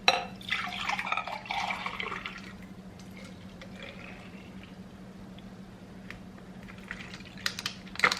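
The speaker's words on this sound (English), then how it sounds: "Just gonna pour all the milk into this this measuring cup to make it easier to pour into a bottle" Breast milk poured from a container into a measuring cup at home, a liquid trickling and splashing for the first couple of seconds, then quieter handling sounds and faint clinks.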